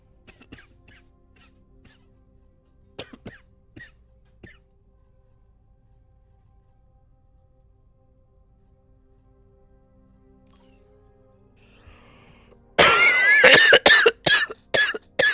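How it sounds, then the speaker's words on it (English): A sharp burst of several loud, rapid coughs from a streamer near the microphone, coming after a long stretch of near silence broken by a few faint clicks. "I don't know what's going on with this cough."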